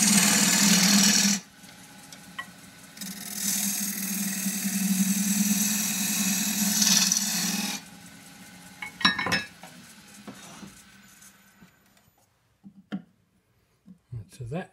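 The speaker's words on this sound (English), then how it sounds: "Do that with a little the 3/8 deep fluted gouge." A 3/8 deep fluted gouge cuts a cross-grain wooden box on a lathe, giving a steady loud scraping hiss for several seconds, then stops, followed by scattered clinks and knocks of tools and the workpiece.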